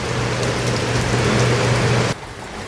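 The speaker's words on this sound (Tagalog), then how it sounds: "Umuulan oh, may bagyo." Heavy rain pours down during a storm, a dense, loud, steady hiss with a low hum beneath it that stops abruptly near the end, leaving a quieter background.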